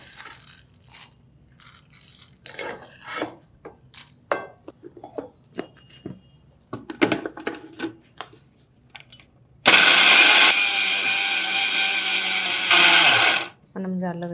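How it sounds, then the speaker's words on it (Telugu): Mixer grinder blending peeled peanuts with coconut powder, starting abruptly after clattering handling noises and running loud and continuous for about four seconds, with a brief surge near the end before cutting off. "ఇందులోనే పొట్టు తీసిన పల్లీలు కూడా మిక్సీ పట్టేద్దాం"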